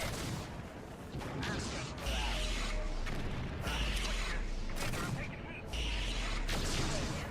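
Mech weapons firing in MechCommander 2, a series of heavy booming blasts in repeated bursts with low rumbling thuds, with a voice speaking briefly over them.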